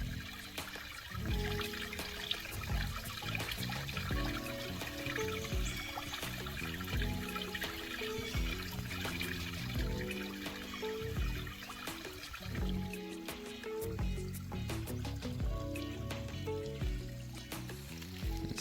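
Water flows and trickles over a farm dam that is nearly full, a continuous babbling, splashing stream close by with irregular gurgles and drips throughout.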